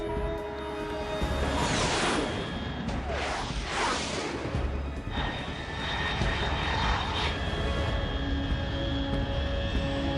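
An aircraft in the Metal Gear Solid 3 video game roars past with a loud, sustained jet drone and rushing whoosh that swells and fades over ten seconds, no talk over it.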